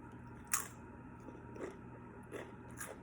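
Faint, close crunching and biting while eating a seafood shrimp cocktail, a few soft crunches scattered over a low steady background hiss.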